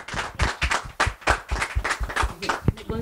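Rhythmic hand clapping in quick, regular beats during an interview with a singer, mixed with voices talking over it.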